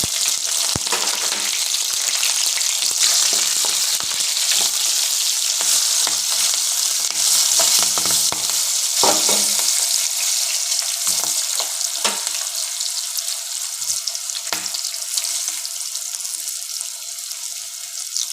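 Green chillies fry in oil with browned cumin for cashew upma, a steady bright sizzle filling the clip with occasional stirring clicks and a brief watery splash, no talking.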